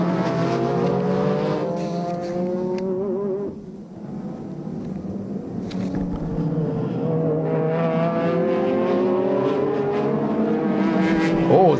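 Super GT race cars at the 2006 SUGO 300 km round roar past on the circuit, with loud sustained engine drones rising and falling in pitch as several cars accelerate and pass nearby.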